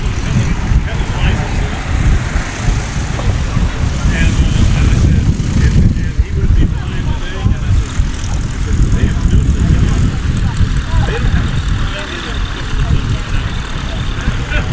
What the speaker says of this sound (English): This airplane, one of the only airplanes purpose-built for both National STOL and STOL Drag events